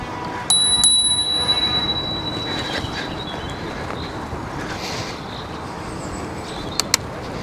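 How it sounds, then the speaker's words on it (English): A bicycle bell rings twice in quick succession, clear and close, on a ride past a dog in Bonnyrigg, then a faint double ding follows near the end over steady road and wind noise. "Always ring the bell."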